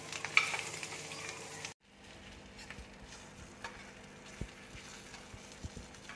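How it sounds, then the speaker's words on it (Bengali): Soft crackling sizzle of onions frying, with a louder burst at the start followed by a quieter steady frying hiss and occasional small pops. "পেঁয়াজটা দেখো ভাজা হয়ে গেছে।"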